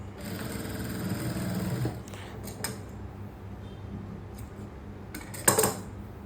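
A sewing machine stitches a blouse sleeve in a steady, close mechanical whir for about two seconds, then stops, followed by light handling clatter and a brief sharp clink near the end.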